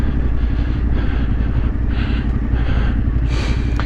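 Motorbike engine running continuously in low gear down a steep, rocky track near Scar House Reservoir in the Yorkshire Dales, a loud, close rumble with rattling clatter from the rough ground.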